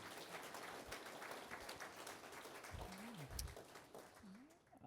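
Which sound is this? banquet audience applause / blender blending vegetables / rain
banquet audience applause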